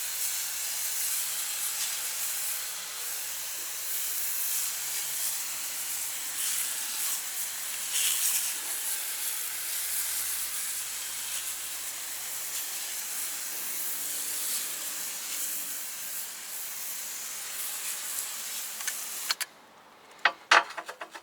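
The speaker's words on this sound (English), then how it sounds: "But first we are going to spray all the wheel with the solution." A Worx Hydroshot sprays cleaning solution onto a car wheel, a steady close hiss of pressurised spray lasting about twenty seconds before it cuts off, followed by a few clicks.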